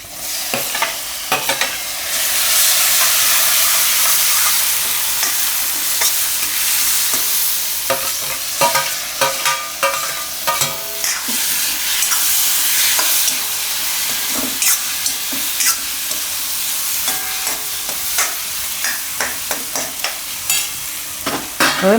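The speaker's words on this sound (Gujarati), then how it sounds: "તો બધું મિક્સ કરીને એમાં આપણે નાખી દઉં આ ટમેટા" Roasted, peeled tomatoes hit hot spiced oil with chilli for a tomato and peanut curry, a loud, close hiss and sizzle broken by frequent scraping stirs and spoon knocks that continue steadily.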